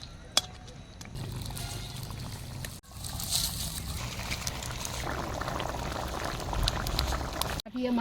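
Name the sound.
fish curry broth boiling in pot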